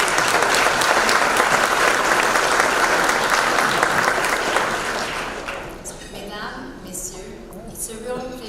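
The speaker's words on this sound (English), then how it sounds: "let's give the Quebec delegation a round of applause" An audience at a red carpet film event in Providence, Rhode Island claps loudly for a delegation from Quebec, the sustained applause fading after about five seconds into quieter room sound and a voice.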